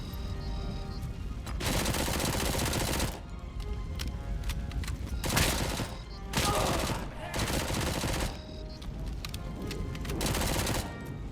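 Gunfire in the video game Robocop: Rogue City, with dense, loud bursts of rapid automatic shots that repeat in several volleys separated by short pauses.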